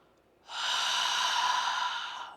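A long, loud breath rushes steadily through an open mouth for about two seconds after a brief quiet start, an ujjayi ocean breath done during a floor yoga flow, with no talking over it.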